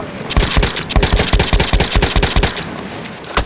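Machine gun fire in Battlefield 1 comes as loud, rapid bursts of closely spaced shots, several sustained strings of fire with brief gaps, close and dominant.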